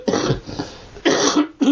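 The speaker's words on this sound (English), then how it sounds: "I still keep coughing, mate." An elderly man coughs close up in a harsh, chesty fit of two bursts with a short gap between them, the start of a third cut off at the end.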